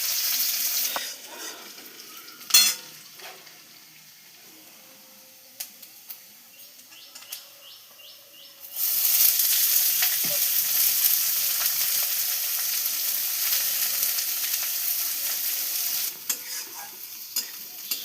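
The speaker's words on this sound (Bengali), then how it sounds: "আদা কুচি, রসুন কুচিটা দিয়ে দাও।" Chopped onion, ginger and garlic hit hot oil in a pan: after several seconds of quiet clicks and utensil taps, a loud, sustained sizzle bursts in and continues close up.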